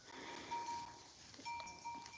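A sheep flock grazes in the mountains, with faint bleats and a thin ringing bell over a quiet outdoor hush, distant and low in level.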